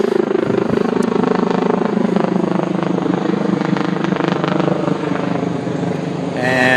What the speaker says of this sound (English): medevac helicopter.